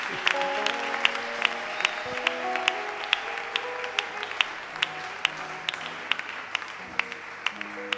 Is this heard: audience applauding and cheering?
yes